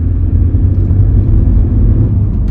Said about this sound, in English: when I accelerate, it is a little bit laggy in terms of gear changes